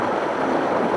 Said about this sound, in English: the water from those ponds are stemmed right off the top, come right down this flume,